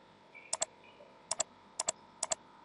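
Code being typed for a Visual Basic script editor on a computer keyboard: four quick pairs of crisp key clicks in an even rhythm, close and quiet, against a low background hum.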